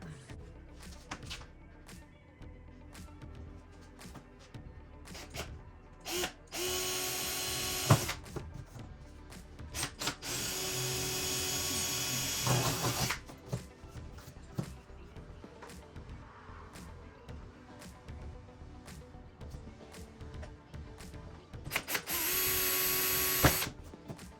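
A power drill with a titanium nitride bit whirs in several bursts, grinding through a rib and the hood of a Shelby Cobra replica, with clicks and handling noises between runs, close by.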